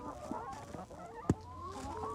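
Chickens cluck and murmur softly nearby, with one louder honk-like squawk standing out in the middle.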